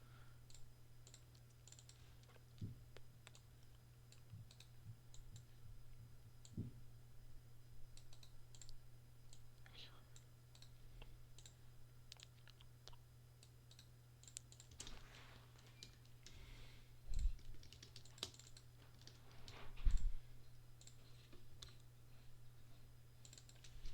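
Typing on a computer keyboard during a livestream, a steady patter of soft key clicks over a constant low hum, with a few louder taps near the end and no talking.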